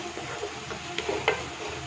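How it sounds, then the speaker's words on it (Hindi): Masala paste frying with chicken in a pan gives a low, steady sizzle, broken by a few soft scraping clicks of stirring. "इसको ऐड करके अच्छे से फ्राई करेंगे इसको थोड़ा टाइम"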